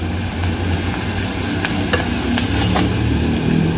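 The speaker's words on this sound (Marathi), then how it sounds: "याला 2 मिनिटं परतून घ्यायचं आहे." Chili powder, turmeric, coriander-cumin powder and goda masala sauté in hot oil in a pan for a lima bean curry, a loud steady sizzle close by with scattered scraping stirs and no talk.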